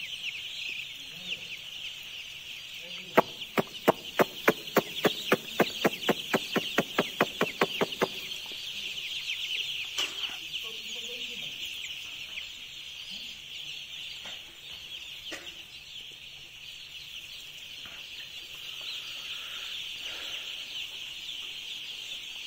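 Day-two commercial broiler chicks on a large poultry farm keep up a dense, high, continuous cheeping chorus, with a quick run of sharp rhythmic taps early on and scattered louder peeps later.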